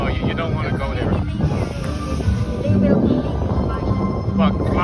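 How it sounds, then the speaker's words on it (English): Strong wind buffets the microphone in a steady roar at a hot air balloon festival, with muffled voices faintly underneath. "because it's too windy"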